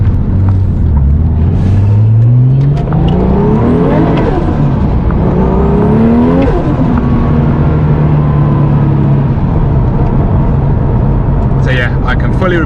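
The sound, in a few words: Porsche 964 Turbo 911 driving, with fabricated third exhaust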